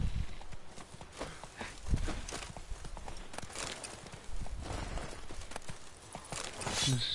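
Horse hooves clip-clop steadily in The Witcher video game, a continuous run of close, even hoofbeats with no talk over them.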